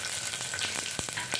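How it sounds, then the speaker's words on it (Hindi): Cumin seeds and green chillies sizzle in a hot pressure cooker, a close, loud crackling fry with quick scattered pops over a steady hiss. "सबसे पहले इसमें हम जीरा और हरी मिर्च ऐड कर देंगे।"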